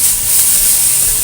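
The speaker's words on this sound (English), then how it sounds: "Right now, we throw the pasta in the pan." Cooked pasta tossed into a pan of hot bacon oil, giving a steady, loud, close sizzling hiss that holds evenly throughout.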